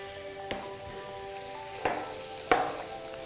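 Flour sizzling in melted butter in a pan, a steady soft frying hiss broken by three sharp stirring scrapes.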